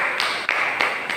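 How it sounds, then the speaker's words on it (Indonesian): A handful of sharp, evenly spaced claps, about four in quick succession, ring out in a classroom as applause for a student during an Islamic moral-ethics lesson. "tepuk tangan dulu Muhammad Mufid"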